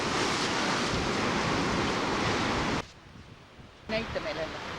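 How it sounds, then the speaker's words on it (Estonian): Indian Ocean waves surge into a sea tunnel on an Australian beach, a loud rushing roar for about three seconds that drops suddenly to a quiet wash, with a faint voice near the end. "kui suur laine sisse tuleb"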